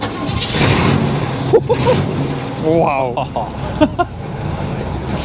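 A car's engine is started up by its owner in the paddock at a Castle Combe Circuit spring track day. It cranks and catches, then settles into a loud, close rumble with small revs while a voice briefly exclaims over it.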